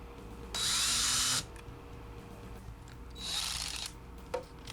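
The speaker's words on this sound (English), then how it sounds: "I'll use my small drill bit set that has depth stops" Two bursts of a small power drill with a small bit boring into the wood of a Fender guitar, a longer whine then a shorter one, close up with a quiet pause between.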